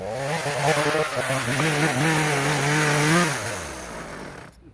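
An old chainsaw engine warming up idles and revs nearby, its pitch wavering up and down before dropping off and cutting out at the end.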